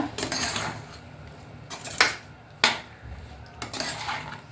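Mango pickle with hot chili powder stirred in a pan, a spoon scraping and clinking against the metal in a few sharp bursts between quieter scraping, with no talk.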